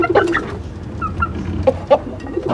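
A hen clucks in short bursts a few times, close by, with soft low background noise between the calls.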